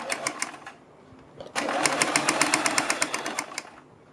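A sewing machine stitches along a fabric strip in two bursts of rapid, even needle clatter, a short run and then a longer steady stretch, close by with no talk.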